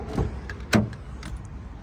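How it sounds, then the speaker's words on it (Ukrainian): Electric folding side mirrors on a Renault Grand Scenic Limited whir briefly with small mechanical clicks, close and quiet, in short bursts. "Електрика, складання дзеркал."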